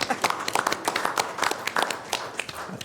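Attendees at a county board of supervisors meeting clap briefly after a unanimous vote, a close, uneven patter of individual claps that carries on steadily throughout.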